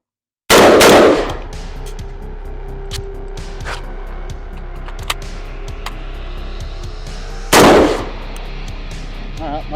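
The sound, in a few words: gunshots fired during a reloading drill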